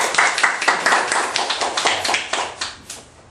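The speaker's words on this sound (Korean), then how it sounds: "자, 박수" A small group claps in a room, with a burst of close, fairly loud handclaps that gradually thins and fades over a few seconds.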